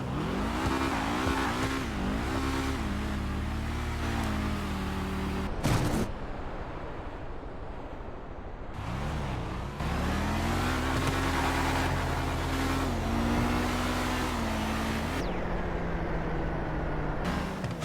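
Hellfire cars in a GTA 5 roleplay street race rev hard and roar continuously, engine pitch climbing and falling through gear shifts with brief tire squeals, loud and close throughout.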